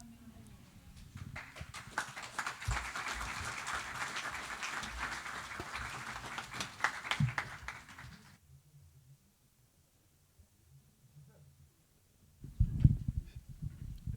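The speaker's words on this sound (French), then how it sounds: "Vous avez applaudi là, c'est ça ?" A congregation applauds in a church during a Sunday baptism service, with sustained clapping for about eight seconds before it fades to near silence, then a voice is briefly heard.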